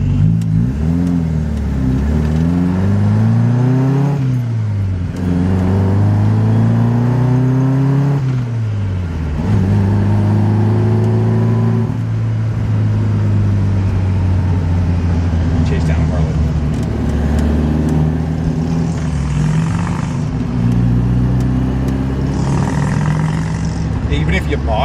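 An old Alfa Romeo engine revs up and down as the car runs through the gears, with rising and falling pitch sweeps at each shift, loud and close for the whole stretch, the engine having an odd V-twin-like character.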